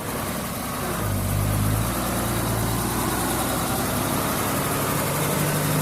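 A heavy dump truck's engine, straining as it struggles to raise a heavily loaded bed, rumbles steadily nearby, its low drone rising slightly in pitch for a moment before settling back to a steady idle.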